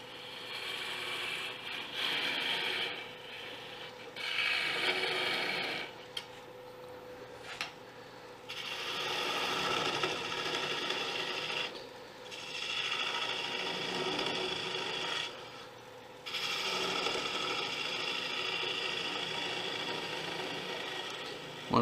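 Wood turning on a lathe with a Cindy Drozda detail gouge, a continuous scraping, rasping cut that stops and restarts several times in short breaks, close and fairly loud with no talking.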